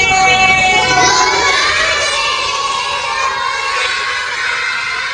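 A first-grade class of young children shouts a greeting together with loud enthusiasm, a sustained chorus of high, overlapping voices in a classroom that slowly fades over several seconds.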